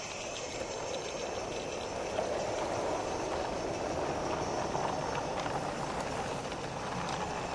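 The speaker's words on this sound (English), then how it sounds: "The Down ore train passes beneath Back Lane on its approach to Beeston Castle station." A distant narrow gauge ore train on a model railway rumbles steadily past with a continuous low roar and faint rail clatter, fairly quiet throughout.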